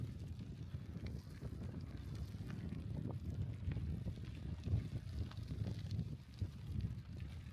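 Steady wind buffets the microphone while cycling on a bike in the Netherlands, a dense low rumble with gusty fluctuations throughout and no clear speech.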